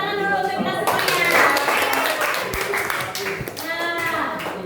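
Students in a secondary-school classroom break into group applause, a busy wash of clapping hands that swells and fades under a teacher's voice.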